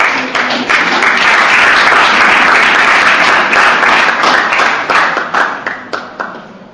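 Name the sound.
congregation applauding in church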